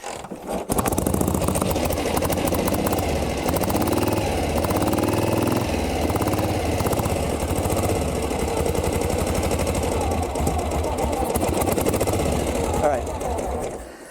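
A 1937 Harley-Davidson Knucklehead motorcycle with a fouled spark plug runs steadily and loudly for most of the clip, a dense uneven engine chatter sustained close to the microphone.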